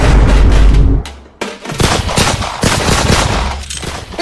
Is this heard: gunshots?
yes